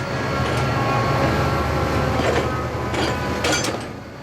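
Mavis, a diesel engine in the Thomas & Friends series, trundles over a steel bridge with a loud, steady rolling rumble and a few sharp metallic clanks near the end, with no voices.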